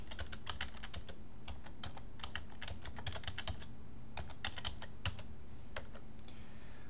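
Quiet, close keystrokes on a computer keyboard as a web server host name is typed, an uneven run of light clicks continuing for several seconds with no talking.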